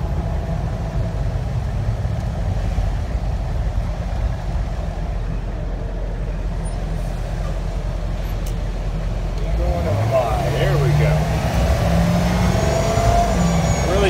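A turbocharged military Humvee, an M1165-A1 HMMWV driven with no doors, rumbles with a steady low engine drone that rises as it accelerates near the end, with a driver talking over the road noise.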